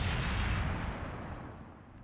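A heavy naval gun fires in the warship game World of Warships, one loud boom that rolls out into a long, fading rumble over about two seconds, with nothing else heard.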